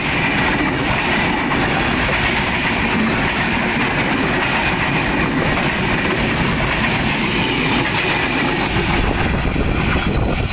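An express train on a Bangladeshi railway line, the Ekota or Drutojan Express, rumbles past close and loud, its wheels and carriages producing a continuous heavy roar with faint rhythmic clatter throughout.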